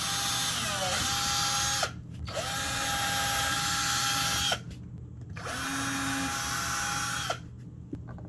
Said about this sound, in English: We can go ahead and drill our pilot holes in each one of these right here